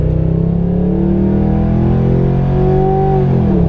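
A Ford Crown Victoria engine idles steadily and close by, a smooth continuous drone with a slight rise in pitch toward the end, and no talking over it.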